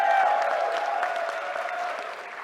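Convention crowd at PAX East applauding in a packed hall, a loud, continuous roar of clapping with a bright ringing tone on top, sustained throughout and slowly tapering.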